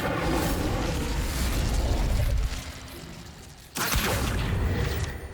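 A fire spell cast in Hogwarts Legacy roars as a dense, loud burst of flame that fills the first couple of seconds, dips briefly, then flares again in a second strong whoosh before fading out.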